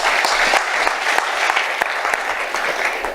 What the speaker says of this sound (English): A big round of applause again. Saliegh Salaam.